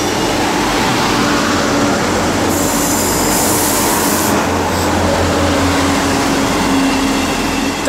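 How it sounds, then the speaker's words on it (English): A Great Western Railway Class 158 diesel unit rolls into Cheltenham Spa station, a loud continuous rumble of wheels on rail with a bright squeal of brakes partway through, heard close and without talk. "now coming in is a 1347 Great Western Railway service from Brighton to Great Malvern"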